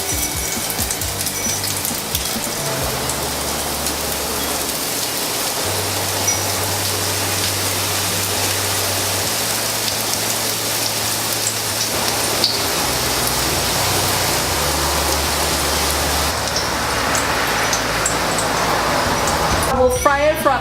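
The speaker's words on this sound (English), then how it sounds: "I have 1 cup of vegetable oil, so I'm gonna go ahead and deep fry tortitas." Shrimp tortitas deep fry in a cup of hot vegetable oil, a loud, dense, steady crackle and sizzle close by that holds without a break, with some brief faint background tones.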